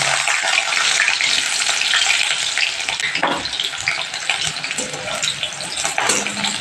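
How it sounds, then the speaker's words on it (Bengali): Chopped onion and slit green chilli sizzle loudly in hot oil, with black cumin seeds frying underneath, for a fish curry with tomato and onion. The frying hiss is close and continuous, with occasional stirring scrapes. "চেরাটা আমি তেলের মধ্যে দিয়ে দিচ্ছি।"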